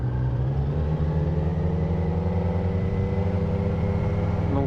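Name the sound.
Kawasaki Z900 A2 motorcycle engine while riding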